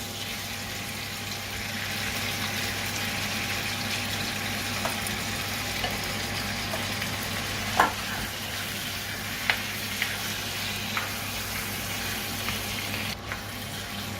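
Pork ribs and chicken frying in a pan for arroz con pollo, a dense, even sizzle running throughout with a low steady hum beneath and a few light clicks and taps of a utensil scattered through.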